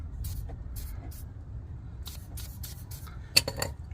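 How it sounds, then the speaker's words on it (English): Silicone spray hisses from a can onto a billet transmission and differential insert for a C7 Audi A6 3.0T, in several short, separate bursts, quiet, over a low background rumble. "put some of this silicone spray on it"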